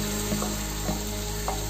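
Cooked dal goes into a hot tempering of softened tomato and makes a steady sizzle and crackle, with a few light scrapes as it is stirred in, close and fairly loud, with no voices.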